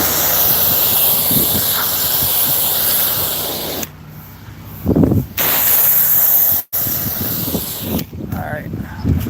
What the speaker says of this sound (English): I'm gonna have to spray this off real quick,